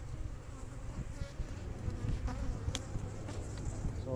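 Continuous buzzing of many honeybees at a hive, a dense steady drone close by with a few sharp clicks and knocks.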